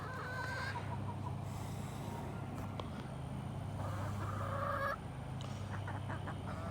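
A farm bird, likely a chicken, clucks in short repeated bursts at moderate distance over a steady low rumble outdoors on a rare fruit farm, with no talk.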